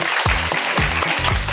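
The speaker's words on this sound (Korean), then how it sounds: "박수 주세요" Brief burst of audience applause in a talk-show studio, clapping bunched in quick surges with a few low vocal whoops mixed in, close and fairly loud.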